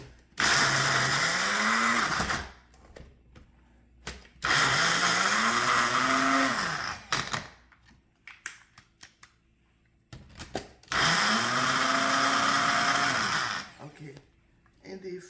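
A blender grinds coconut for a coconut cake in three loud bursts of roughly two seconds each, the motor whining up and down, with short pauses of handling noise between runs.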